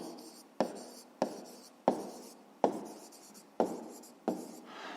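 Pen writing numbers on paper for a fifth-grade math exercise, six distinct scratchy strokes at regular intervals, close and fairly quiet with no talk.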